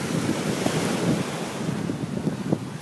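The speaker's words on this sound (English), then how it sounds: "The ocean is a little rough today" Rough ocean on a windy day, with continuous roaring surf and heavy wind noise buffeting the microphone, a loud, unbroken wash with no voices.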